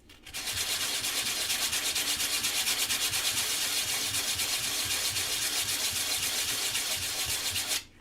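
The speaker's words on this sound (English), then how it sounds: "It was just really rough sandpaper because I wanted to do that really quickly." Very rough sandpaper rubs steadily and quickly over a model piece being sanded, a loud, continuous, close scratchy rasp that runs alone without pause for several seconds.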